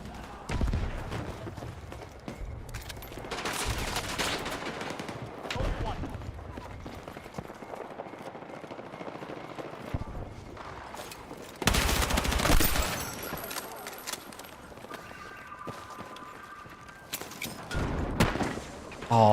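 Shotgun blasts and gunfire in the video game Battlefield 6, scattered sharp bursts and booms in a busy firefight, several shots in quick succession amid in-game noise.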